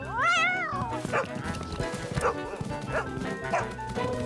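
A dog barks several times in quick succession, close and fairly loud, with a higher whining yelp at the start.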